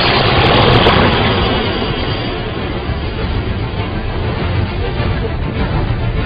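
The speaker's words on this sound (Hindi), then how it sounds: "कुछ ही पलों के बाद सुपरसोनिक स्पीड से उड़ने वाले विमानों की वापसी हुई।" Pakistan Air Force supersonic military jets return overhead as a loud, steady broadband roar that stays strong for the whole stretch, with no talking.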